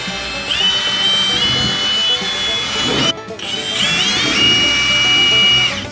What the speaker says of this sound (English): It's the drill, I swear.